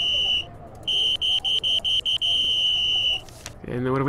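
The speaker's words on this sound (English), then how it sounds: "so green is a buzzer" A buzzer in a Nancy Drew video game puzzle sounds as a harsh electronic tone, first in short repeated pulses and then held steady for a couple of seconds, with a brief rising tone at the end.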